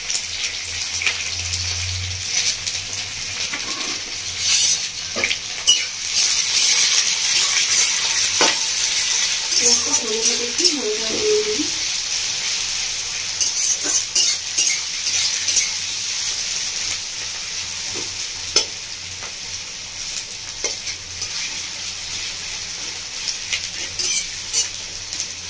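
Two slit green chillies and two medium sliced onions fry in hot oil for a Bengali mutton curry, a loud, continuous close sizzle with occasional stirring scrapes and no voices.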